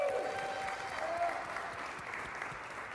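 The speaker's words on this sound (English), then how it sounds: "give yourself a round of applause." Room of associates at a bank's quarterly all-staff meeting applauding, a sustained even patter of many hands with a faint voice-like tone near the start.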